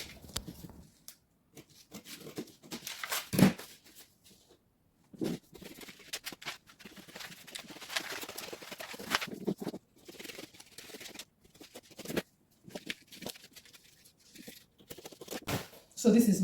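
Scissors cutting out a paper sewing pattern piece for a summer dress strap: intermittent crisp snips and paper rustles, close by, mixed with spoken narration.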